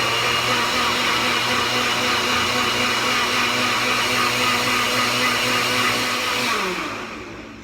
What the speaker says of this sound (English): I'm gonna blend for about a minute.